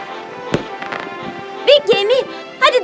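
Fireworks bursting over a large ship at sea in a cartoon, a few sharp pops and crackles under a musical score, with a voice speaking over them.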